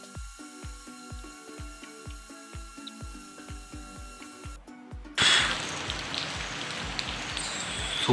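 Steady, loud rain hisses on a surface from about five seconds on, after a rhythmic mechanical ticking and clicking with no one talking.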